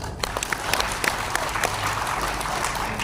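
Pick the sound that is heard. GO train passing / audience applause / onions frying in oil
audience applause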